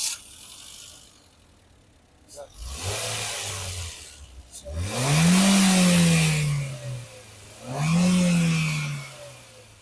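A 2020 Honda Brio Satya manual with a three-cylinder engine idles quietly, then revs up three times in separate swelling bursts, close and fairly loud, with faint clicks between.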